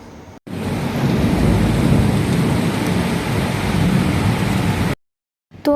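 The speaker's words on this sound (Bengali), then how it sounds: "তো এত বৃষ্টি হচ্ছে, এত বিদ্যুৎ চমকাচ্ছে যে কি বলবো বন্ধুরা" Heavy rain pours in a loud, steady roar with low thundery rumble underneath, cutting off abruptly near the end into silence before a brief voice begins.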